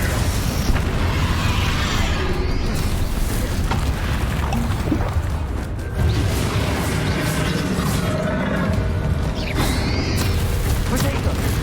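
Confringo spell blasts in Hogwarts Legacy, booming magical explosions and mechanical clanks repeating through a busy duel, loud and continuous with a voice calling out over the combat.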